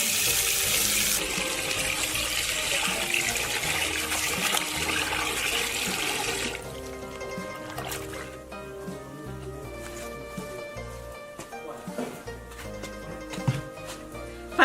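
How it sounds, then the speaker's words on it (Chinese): Pork ribs are rinsed under running tap water in a kitchen sink, making a steady, fairly loud rush of water for about six seconds before it gives way to quieter background music. "排骨倒好了，现在洗一下。"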